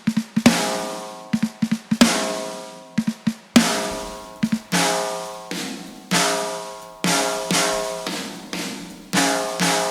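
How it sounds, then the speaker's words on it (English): A very ringy deathcore snare drum sample called Ring Job from Bogren Digital, struck alone in a loud, irregular pattern of single hits and quick flams, with each hit leaving a long tonal ring. "So it's really this super ringy snare"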